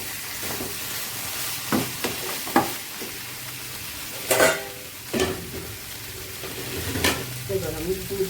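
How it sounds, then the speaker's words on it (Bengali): Vegetables for Bengali shukto being stirred and sautéed in a pan, a steady soft sizzle under repeated scraping strokes of the spoon, with a few louder clinks and scrapes at irregular intervals. "বন্ধুরা দেখুন আমার এটা সবজিটা ভালোভাবে কষানো হয়ে গেছে।"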